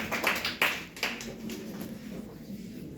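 Students in a classroom clap for a classmate's weekly science test result, a brief burst of scattered hand claps that quickly fades into a low room murmur.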